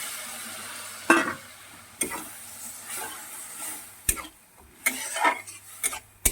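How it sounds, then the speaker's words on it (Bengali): Kasuri methi fries in a paneer dal masala with a low, steady sizzle, punctuated by irregular close scrapes and knocks of a spoon stirring through the pan. "এবার আমি দিয়ে দেবো অল্প করে কস্তুরি মেথি একটু ভেজে নেব"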